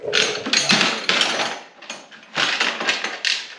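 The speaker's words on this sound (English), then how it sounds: "once you get this bolt in, you can tighten both of them." A ratchet tightening bolts on the A-arm of a Ski-Doo Rev MXZ 550F snowmobile, giving close, loud bursts of rapid clicking separated by short pauses.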